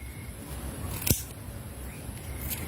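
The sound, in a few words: scissors cutting kulitis (spiny amaranth) stems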